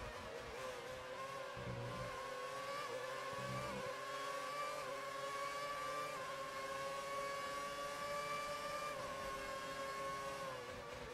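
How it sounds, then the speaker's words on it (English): A 2010 Ferrari V8 Formula One car in the F1 2019 video game at Albert Park, its engine screaming at high revs in a continuous whine that climbs slowly, steady and loud with no voices over it. "It's just a cacophony of noise. V8 high-pitched squeal noise."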